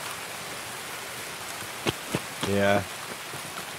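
Steady hiss of heavy rain in Escape from Tarkov, a loud constant wash filling the whole clip, broken by a couple of sharp clicks and a short voiced word from a player.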